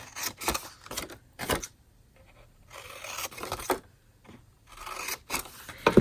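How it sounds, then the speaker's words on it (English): Several short rasping snips of scissors cutting through paper, close by, in irregular bursts with brief pauses between them. "I'm going to take my scissors and cut up to the score line"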